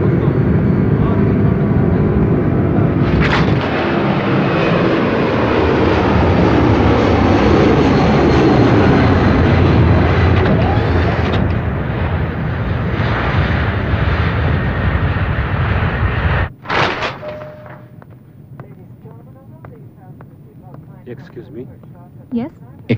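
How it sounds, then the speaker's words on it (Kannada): A passenger airplane roars loudly and continuously during takeoff, then the engine noise drops sharply, leaving quieter cabin sounds with brief voices. "ಫ್ಲೈಟ್ ಟೇಕ್ ಆಫ್ ಆಯ್ತು"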